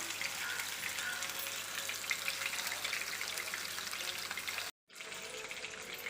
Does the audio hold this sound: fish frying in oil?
yes